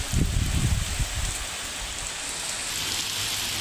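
Heavy storm rain under dark clouds hisses across the whole clip in a village, a dense wash of patter with a few louder rumbling splashes near the start.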